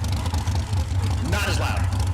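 A twin-turbo SMX big-block drag car engine at an SRCA dragstrip in Great Bend, Kansas, rumbles in a steady deep drone, with a rising whine partway through and people talking over it.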